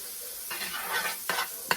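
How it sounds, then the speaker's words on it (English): Butter melting in a hot pan as it is readied for cornbread batter, giving a soft, steady sizzle with a few brief louder crackles and stirring scrapes near the end, close and fairly quiet. "You can hear it sizzling."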